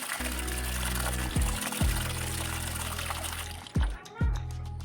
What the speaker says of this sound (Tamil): எடுத்த பிறகு அதில் மண் குப்பைகள்லாம் இருக்கும் ஸோ அதனால் தண்ணியில் நல்லா வாஷ் பண்ணி எடுத்துக்கலாம்